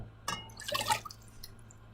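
Water is poured into a pan for cream puff pastry dough, a short splashing trickle up close in a quiet kitchen.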